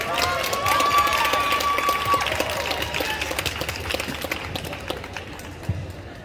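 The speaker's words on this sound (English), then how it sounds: "Please give him a round of applause." Applause from an assembled crowd at a Hoover High School Memorial Day ceremony, a steady wash of clapping that begins full and gradually thins and fades, with murmuring and a brief tone early on.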